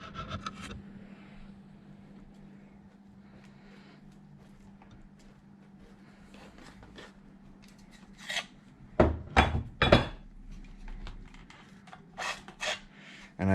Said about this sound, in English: we're going to go ahead and give this chassis a little tweak back